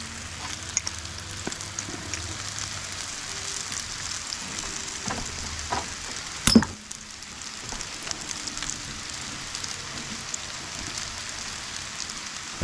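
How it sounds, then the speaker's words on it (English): Tomatoes and tortellini sizzling in a pan for a chicken tortellini dish, a soft steady crackle with scattered small pops and one sharper clatter partway through, no voices. "Let those tomatoes and tortellini heat up."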